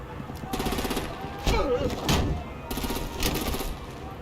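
Bursts of gunfire from real guns in the Batman Telltale game crackle in several rapid volleys, fairly quiet, with voices speaking between the shots.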